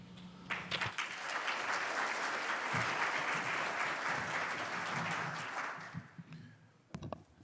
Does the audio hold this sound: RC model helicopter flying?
no